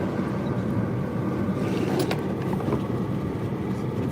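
A vehicle engine idling roughly and nearly stalling, a steady low rumble that stays loud and close throughout with slight unevenness and no other clear sounds.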